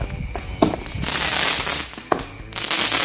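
Cobra Jumbo firecrackers burst outdoors in two sharp, loud bangs, each trailed by a long, rough hiss of crackling debris that fills the gaps between them.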